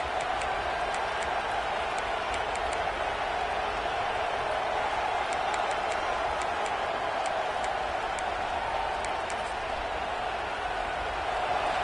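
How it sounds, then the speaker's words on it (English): A college football stadium crowd at a Texas A&M vs Oklahoma game keeps up a sustained, distant roar, an even wash of cheering that rises slightly without any distinct voices. "And this crowd coming to life here, trying to help the defense get a stop"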